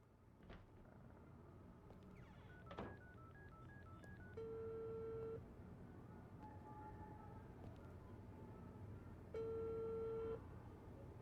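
A phone call being placed in the video game Unheard: a quick run of dial tones followed by two long, evenly spaced ringback tones, faint, with no talking.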